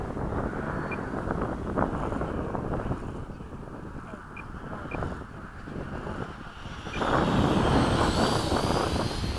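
A radio-controlled model airplane flies during a formation flight at a field, its engine a steady whine under heavy wind rush that surges louder toward the end as the throttle opens.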